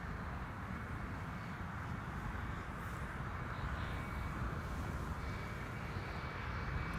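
A blue Boeing 747 climbing away from runway 24 at Amsterdam Schiphol gives a steady, distant jet roar, a broad low rumble that holds evenly throughout with no voices.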